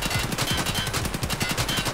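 An AKS-74U rifle fires fully automatic bursts at a shooting range in Escape from Tarkov, rapid evenly spaced sharp cracks, loud and close, with no talk.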